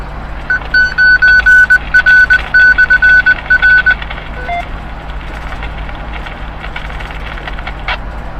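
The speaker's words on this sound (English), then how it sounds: "That little beeping sound was just the repeater saying that you have made the repeater." A series of short, rapid electronic beeps from a radio repeater repeats evenly for a few seconds over a steady low hum, then stops, leaving faint background noise.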